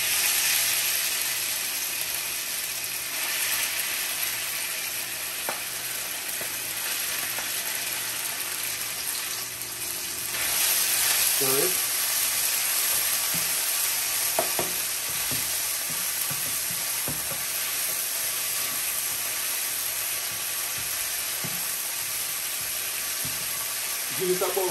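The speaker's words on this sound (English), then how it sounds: "Now that my oil is hot, I'm just gonna go ahead and add my beef." Beef hits hot oil in a wok for lo mein and sizzles steadily for the whole stretch, a loud constant frying hiss with occasional clinks and scraping of a utensil against the pan.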